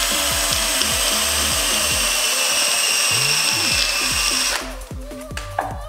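A cordless drill with a nearly dead battery bores into metal plate, whining steadily and close for several seconds, then bogs down and stutters to a stop near the end.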